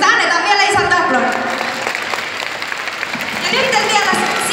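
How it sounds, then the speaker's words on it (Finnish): A crowd at a fan event with performers on stage applauds, a broad wash of clapping under a voice talking over it, loud throughout and swelling again toward the end. "Annetaan vielä isot aplodit."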